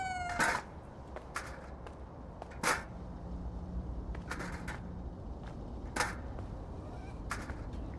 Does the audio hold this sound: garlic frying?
no